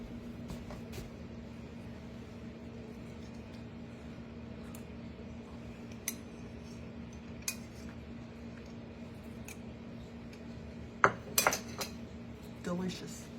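A spoon is grabbed from among cutlery in a home kitchen: faint, sparse metallic clinks over a quiet background hum, with a small cluster of clatter near the end.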